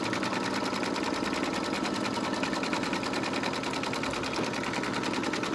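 Embroidery machine stitching a Santa magic key doorhanger, a rapid, even mechanical whir and needle clatter that runs steadily and unbroken at close range throughout.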